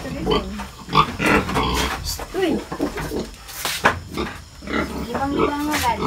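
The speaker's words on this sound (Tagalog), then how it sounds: "parang sisirain pa ng baboy yung kanyang ano, pig pen" A pig in labor in a farm pen grunts and oinks while banging and rattling its pen, with someone talking over the noise throughout.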